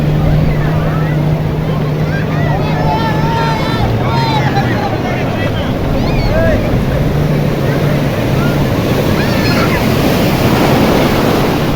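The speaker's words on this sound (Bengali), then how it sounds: "অনেক ঢেউ এদিকে" Surf rolling onto the crowded beach at Cox's Bazar's Sugandha Point on a holiday, a continuous loud wash of breaking waves with wind buffeting the microphone, a boat engine droning low and people talking throughout.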